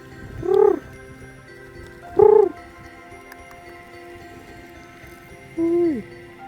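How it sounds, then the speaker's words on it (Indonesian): Birds at the Ratu Boko temple site in Indonesia give three separate soft, hollow coos, dove-like and spaced a couple of seconds apart, over quiet outdoor ambience. "Wih, banyak banget burung-burungnya."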